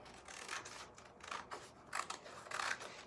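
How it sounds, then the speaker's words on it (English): Scissors snip through the bottom margin of a sheet of vintage sheet music paper, four or five quiet crisp cuts in an irregular rhythm, close up and alone. "I'm going to first cut off the bottom margin"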